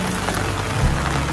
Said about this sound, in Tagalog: medyo nag-adjust muna kami ng konti at malakas na rin yung ulan